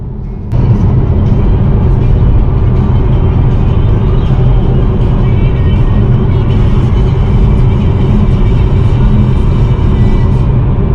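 A Volkswagen ID.3 electric car accelerates, heard from inside as a steady loud low road rumble and tyre noise that holds throughout, with no engine note.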